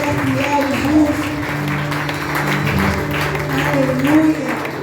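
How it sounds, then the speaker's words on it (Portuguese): Congregation clapping loudly during a church celebration service, mixed under music and voices with a steady hum, sustained throughout. "Aplauda bem forte, Senhor"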